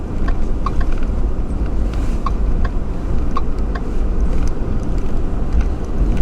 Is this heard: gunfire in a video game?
no